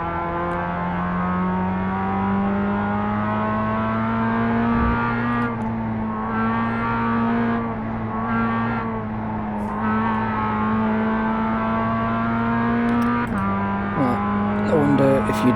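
A Mazda MX-5 race car engine in the iRacing sim during a Global Mazda MX-5 Cup race drones steadily, its pitch rising and dipping through gear changes and braking, loud and continuous throughout.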